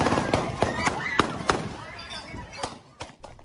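A rapid series of sharp cracking shots rings out, irregular bursts echoing outdoors, some loud and close, others fainter.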